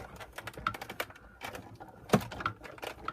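A die cutting machine runs a plate stack of paper and an intricate die on a magnetic platform through its rollers, making irregular light clicks and ticks with a few sharper knocks, close and fairly quiet.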